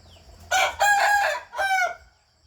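A Burmese fighting rooster, a well-spurred game cock, crows loudly and close by: one long drawn-out call with a brief break, then a shorter second crow, with nothing else heard.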